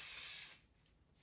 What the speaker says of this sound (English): I would then spray the front.